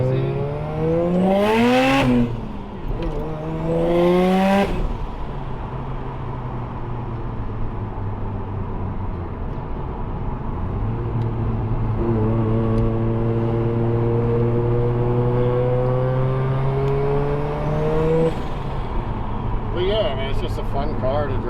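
A Mazda RX7 with a street-ported rotary engine and stock drivetrain heard from inside during a ride along, the engine revving up hard in rising pulls with gear shifts, loud and close, with brief speech.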